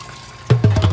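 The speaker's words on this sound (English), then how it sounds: "And now I'm pumping it down through the pump and then back up into the mash tun." Brewing water gurgling and splashing as a pump sends it back up into a mash tun on a homebrew system; a quiet hum gives way to several close, bubbling surges of liquid in the second half.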